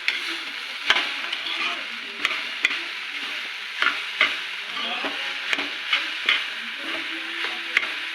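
A spoon stirs sugar into a mixture in a pan, scraping in repeated sharp clicks against the metal over a soft continuous sizzle, close and moderately loud, with no talking.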